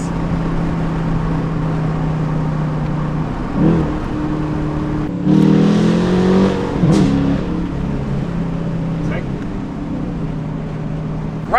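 Deep rumbling exhaust of a Dodge Challenger R/T with universal mufflers cruising with its valves closed, a steady low drone with a couple of brief swells, while people talk over it.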